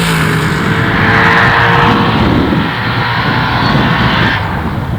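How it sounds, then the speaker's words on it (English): Two drag racing trucks with 632 cubic inch big block Chevy engines roar hard off the line at the strip, a loud, sustained engine blast that swells and then eases slightly toward the end. "lining up next to Garrett Williams, a pair of 632 cubic inch big block Chevys paired up on the line"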